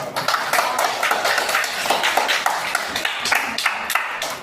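Classroom students clap for a presenting group, a dense, steady patter of many hands filling the room at moderate loudness for several seconds with no talk over it.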